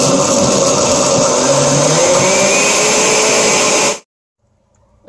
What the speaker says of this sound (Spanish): llevaremos a licuar lo que son los ingredientes que puse en la licuadora